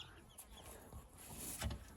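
Faint, high-pitched peeping from newly hatched ducklings, a few short chirps scattered over a quiet background.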